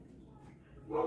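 A dog named Scooby barks in a short, close burst at the end, rising over a background with a person's voice.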